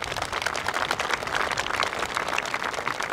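Audience applause fills a field hockey awards ceremony at the Field Hockey Canada U16 Nationals: dense, steady clapping from a crowd, fairly loud and sustained throughout, with no talking over it.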